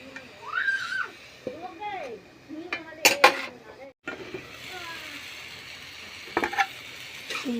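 Kolmou greens fry in a pan while being stirred, with soft sizzling under repeated scraping and metallic clinks of a utensil against the pan; a voice talks intermittently over the cooking.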